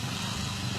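Homemade tipping dump motorcycle built by hand, its engine running steadily and close by, a continuous low rumble with no pauses and no talk.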